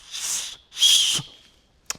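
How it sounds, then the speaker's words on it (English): A small emergency whistle on a Tolaccea 50L expandable backpack gives two shrill blasts close up, the second longer, then a brief faint chirp. "And it also has a whistle for emergencies"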